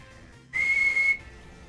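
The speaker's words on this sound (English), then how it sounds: "if you whistle at them, you'll be sure to catch their attention" A single clear, steady whistle from the player character in Pokemon Shield, lasting about half a second, bright and loud against quiet game background.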